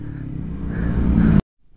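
A motorcycle engine at Kagbeni rumbles close by, its revs rising over a little more than a second before the sound cuts off abruptly into near silence.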